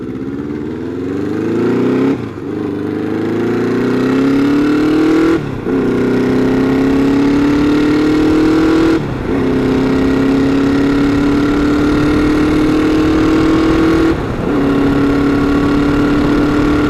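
A Honda Nighthawk motorcycle engine, ridden after sitting for two years, revs loud and close in a steady sustained drone that climbs in pitch through repeated gear shifts, with brief dips at each change.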